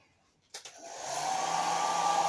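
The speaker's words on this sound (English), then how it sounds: "Now just get the air dryer" A hair dryer starts with a couple of sharp clicks, then spins up into a steady, close whooshing drone while warming stitched sail fabric, loud and even with no talk.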